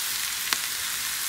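Sliced potatoes sizzle while roasting in a pan, a steady faint hiss of frying with one brief click partway through.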